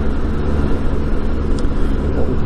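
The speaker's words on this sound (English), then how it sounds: "that's a nice car" Car heard on a road in Scotland during a motorcycle tour, a loud continuous engine rumble and tyre roar close by, with wind noise across the whole moment.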